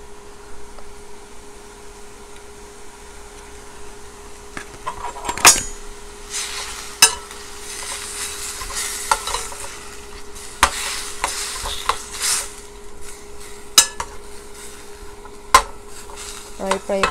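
Ingredients for kimchi jjigae stirred and frying in a pan, a steady sizzle beneath repeated sharp scrapes and clanks of a utensil against the metal, growing busier midway with scattered loud knocks.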